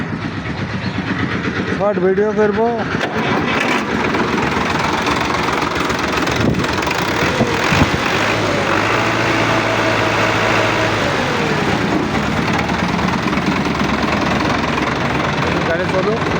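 A 2018 Sonalika RX 60 tractor with a rotavator starts up and settles into a steady, loud, rumbling idle close by, with someone talking briefly over the engine noise.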